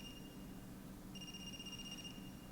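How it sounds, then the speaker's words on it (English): A phone ringing in the video game AI: The Somnium Files: a faint electronic ring heard as two thin tonal bursts with a short pause between, quiet under low background ambience and free of talk. "Is that a phone ringing?"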